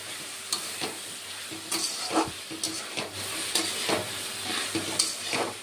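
Potato and vegetable stalk curry with poppy seed paste sautéing in a pan: a steady close sizzle with repeated scraping stirs and soft clinks throughout, no voices.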